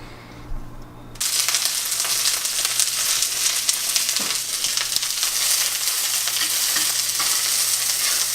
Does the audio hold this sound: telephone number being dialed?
no